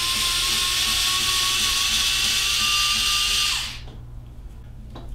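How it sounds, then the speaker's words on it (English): A mini electric Ryobi screwdriver whirs steadily at high pitch while backing out screws on the cover of an Ender 3D printer, then spins down and stops, leaving quiet handling sounds. "For mine, I'm going to use a mini electric Ryobi screwdriver."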